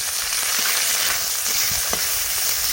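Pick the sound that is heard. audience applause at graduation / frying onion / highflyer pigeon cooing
frying onion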